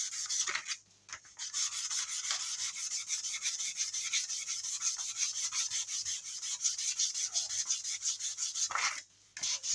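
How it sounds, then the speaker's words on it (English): Steady, rhythmic rasping of 400-grit sandpaper on a wooden CST-24 guitar kit body by hand, close up, with brief pauses between runs of strokes. "I forgot how painful sanding wood can be actually"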